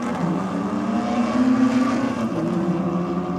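Nitrous-fed 4-litre Ford drag car launching beside an XG Falcon at a no-prep drag strip, a loud sustained engine roar that stays steady and heavy throughout with no voices.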